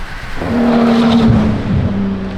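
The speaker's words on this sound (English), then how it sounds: "Oh my god, was that a Huayra BC?" A Pagani Huayra BC drives past on the street, its engine note swelling loudly and droning for a couple of seconds before easing off as it moves away.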